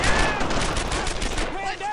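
Dense, sustained gunfire from a World War II battle in the Brothers in Arms video game, rapid overlapping shots and bursts filling the whole stretch at close range, with shouted voices faintly mixed in.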